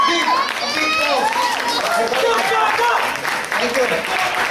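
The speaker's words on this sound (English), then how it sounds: "Please give a big applause." An audience at a novice bodybuilding contest applauds the 14 lined-up competitors, with sustained clapping and crowd noise mixed with shouts and voices.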